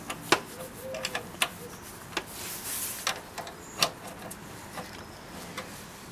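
A spanner works a 12mm bolt that holds the fuel tank on a Honda CBR125R motorcycle. Scattered faint metallic ticks and clicks come at an irregular pace, close by in a quiet workshop.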